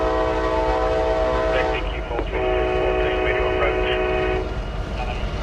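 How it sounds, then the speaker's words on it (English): CSX freight train Q456 led by an EMD ST70AH locomotive sounds a loud, sustained chorded horn in two long blasts over a constant rumble of rolling cars, fairly close by. "Next up is Q456, an EMD ST70AH in the lead."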